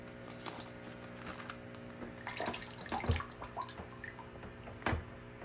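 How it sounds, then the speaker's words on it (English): Excess water runs and drips out of a plastic seed starting tray planted with summer squash seeds: a faint trickle with a few soft splashing drops, quiet and close, with no talking. "A couple of drops of water."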